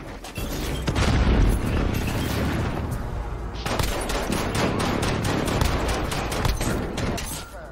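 Gunfire crackles in Modern Warfare: a loud, near burst of rapid automatic shots, a short lull, then a steady run of evenly spaced repeated shots. No one talks over it.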